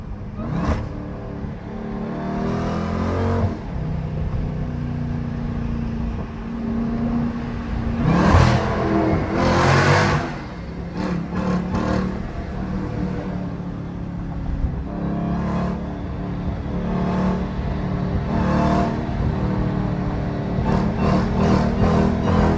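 A widebody Jeep Grand Cherokee Trackhawk pulls hard under acceleration, its engine whine and roar steady throughout with repeated surges and sharp bursts, heard up close from inside the vehicle with no talking.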